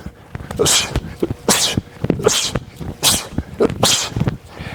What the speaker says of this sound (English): You can hear me breathing hard.